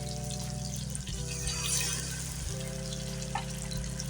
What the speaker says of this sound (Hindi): और अभी हम इसमें पानी शामिल करेंगे।